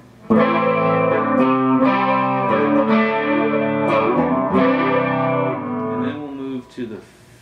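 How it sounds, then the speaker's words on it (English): Electric guitar through a Hughes and Kettner Grandmeister 36 amp with a flanger effect, captured by a room mic; a run of strummed chords and picked notes with sweeping, swirling tone, steady and fairly loud, ending with a short tail. "No, I'm sorry, that was the flanger."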